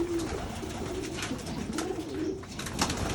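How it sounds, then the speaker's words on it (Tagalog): Racing pigeons coo in soft, repeated low throaty phrases close by, with faint ambient rustle and no talking. "Kompleto na ba yung kalapati mo rin, Ray?"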